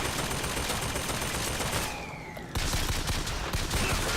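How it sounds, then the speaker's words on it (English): Turret gunfire in an old 1999-era PC game: continuous rapid bursts of shots at moderate volume, broken by a short pause before firing resumes. "they fire in bursts before they run out of ammo and have to wait"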